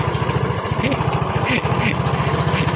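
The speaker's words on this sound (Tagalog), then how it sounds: "papaandar na ng makina" A fishing boat's motor runs at sea on a calm evening, a loud, steady low chugging with a fast regular pulse throughout, close by and constant, with no talk over it.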